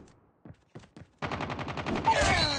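Rapid automatic gunfire bursts out in a Call of Duty battle royale match, a fast rattling string of shots following a few separate sharp cracks, loud and up close.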